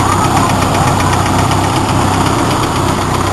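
A Toyota Tamaraw FX engine idles steadily just after an oil change, a close, loud, continuous mechanical hum with a faint rhythmic knock running under it throughout.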